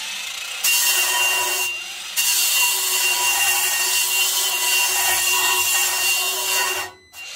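A Parkside PWSA 20 Li-C3 cordless angle grinder running at low speed grinds material with a loud, steady abrasive whine, briefly pausing early on and cutting out near the end.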